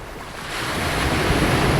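Sea surf washing onto a UK beach of wet sand, a loud continuous roar swelling over a couple of seconds with wind buffeting the microphone, no talking.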